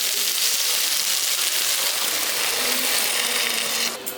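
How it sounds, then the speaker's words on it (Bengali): Water poured into soybean korma in a pan, a loud steady hissing rush that keeps going without a break and cuts off sharply near the end, with no talking. "এবার এর মধ্যে জল দিচ্ছি।"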